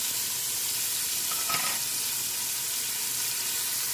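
Green chili pepper fries in oil with a loud, steady sizzling hiss that barely changes, apart from a brief crackle in the middle.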